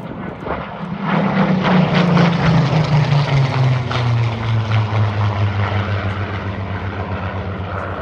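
A single-engine propeller warbird roars past at Sywell Airshow, loud and close. Its engine drone swells, then drops steadily in pitch as it passes and recedes.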